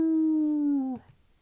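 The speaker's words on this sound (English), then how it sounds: "The beastly howl is beginning to give me a headache. It doesn't stop." In a visual novel game, a single beastly howl rings out as a clear, sustained tonal cry that dips in pitch at the end and stops suddenly, prominent with nothing else around it.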